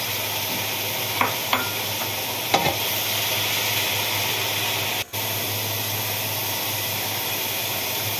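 Carrots being stirred and sautéed in a hot pan give a steady, loud sizzle and frying hiss throughout, with a few scraping stirs early and a brief break midway.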